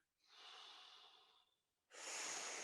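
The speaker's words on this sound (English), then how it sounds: "Take a breath." A person's breathing: a soft drawn-out inhale lasting over a second, a short pause, then a louder, forceful exhale close by, with no talking.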